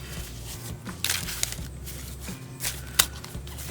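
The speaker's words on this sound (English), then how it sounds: "you would shuffle your deck a few times" Someone riffle-shuffles a deck of Yu-Gi-Oh trading cards up close, with quick bursts of fluttering card slaps separated by brief pauses.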